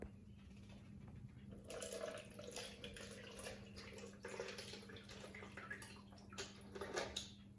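Water, 250 milliliters, is poured during a hydropower lab demonstration, a soft continuous splashing and trickling that starts after a brief pause and runs on with small surges, faint and without talk.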